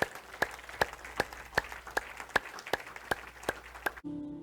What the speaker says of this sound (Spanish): Demos un aplauso al Señor por su palabra.